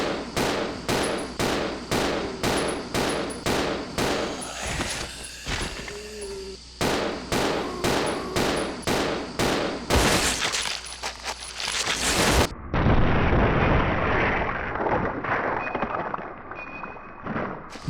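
A weapon in Resident Evil Zero fires a long series of loud, evenly spaced gunshots at zombies, pausing briefly midway, then a heavier explosive headshot blast and a sustained rumbling burst near the end.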